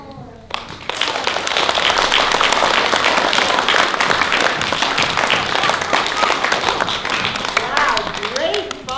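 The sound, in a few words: audience clapping hands together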